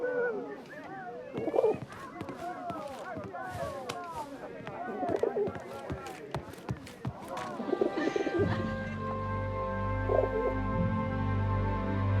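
Pigeon cooing in the video game 11-11: Memories Retold, a run of soft coos near the start mixed with other bird calls, under a spoken exchange and followed by swelling music.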